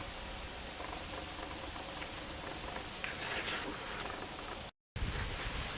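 A stream flows past moss-covered cinder blocks and old bricks at an old homestead, giving a steady broadband rush of running water that is close and even, briefly cut out near the end.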